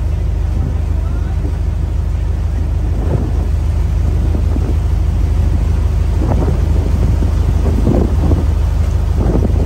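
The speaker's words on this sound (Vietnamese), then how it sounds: "Cả nhà thấy mưa vẫn còn đang rất là lớn nè." Heavy rain and strong wind beat down during a rough sea trip aboard a cargo boat to Hòn Nghệ island, forming a constant loud roar with intermittent gusts and thumps buffeting the microphone.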